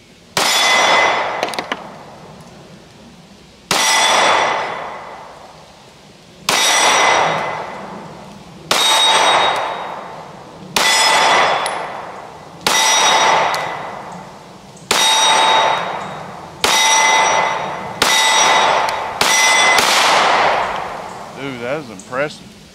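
Stoeger STR-9 compact pistol fired at a target on a range: nine or ten loud, sharp reports spaced a couple of seconds apart, each ringing out with a metallic clang before the next, a brief voice near the end.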